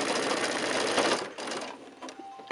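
A sewing machine stitching a quilt block seam on white charm squares, a fast continuous mechanical whir for over a second before it slows and stops, close and clear.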